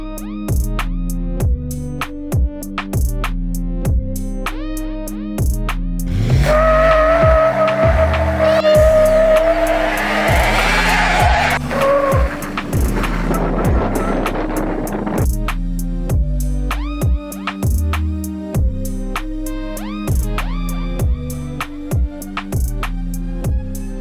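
A Harrop-supercharged Toyota Tundra pickup on 37-inch tires accelerates hard, with a loud engine and whine rising in a burst midway, set against steady rhythmic background music.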